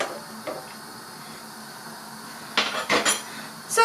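A metal lid is set onto a cooking pot of cabbage soup with buckwheat on the stove. A few quick clinks and clatters come close together against a quiet kitchen background.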